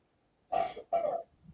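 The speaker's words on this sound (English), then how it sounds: "My little girl, she's coughing." Two short, rough coughs in quick succession, fairly close, followed by a faint rustle.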